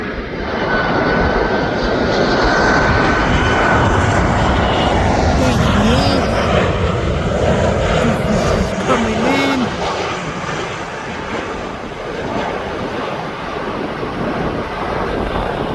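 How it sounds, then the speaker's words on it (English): A Jet2.com liveried airliner at East Midlands Airport sends a loud, sustained jet-engine roar under heavy wind buffeting on the microphone, with a voice talking partway through. "There's that Jet2.com livery aircraft."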